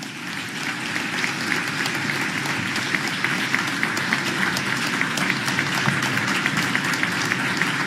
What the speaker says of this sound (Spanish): con este aplauso agradecemos y despedimos al señor presidente de la Nación, doctor Javier Milei